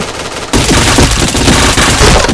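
Loud, rapid automatic gunfire in the online shooter PointBlank, a dense continuous burst that starts abruptly and runs to the end.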